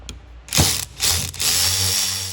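A ratchet with a 7 hex bit loosens the guide bolt on a BMW brake caliper, giving close, sharp clicking bursts in several separate runs with short pauses between them.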